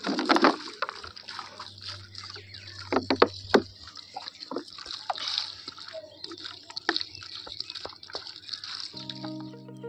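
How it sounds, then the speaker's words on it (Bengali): Water poured onto a dried-out potted plant on a rooftop, with close splashing, trickling and scattered drips at varying loudness throughout. "একটুখানি জল দিয়ে দিই।"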